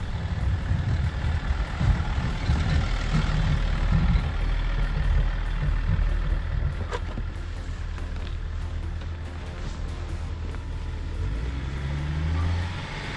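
A lifted Range Rover L322 on 35-inch tyres creeps down a sand quarry hill under hill descent control, with a steady, fairly loud low engine drone and rumbling drivetrain throughout.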